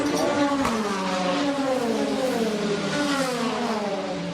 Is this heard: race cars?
yes